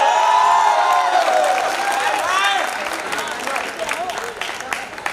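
An audience at an annual day event cheers and claps while a voice carries over the crowd; the clapping grows into a denser patter toward the end.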